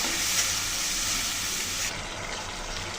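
A spice paste mixed with beaten yogurt frying in a pan for prawn kalia, giving a continuous dense sizzle that eases slightly partway through.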